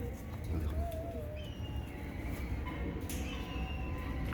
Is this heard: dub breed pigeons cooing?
yes